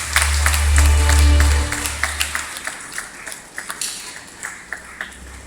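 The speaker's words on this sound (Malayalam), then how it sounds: "നമുക്ക് കൈയടിച്ച് അദ്ദേഹത്തെ സ്വാഗതിച്ചു." An audience at a golden jubilee celebration of a church mission league in Edappally applauds to welcome a guest, clapping settling into scattered, tapering claps after a low, loud hum at the start.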